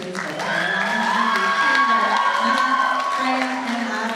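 An audience at a summer arts faculty showcase claps and cheers after performances, a sustained swell of clapping with whoops and raised voices mixed in throughout.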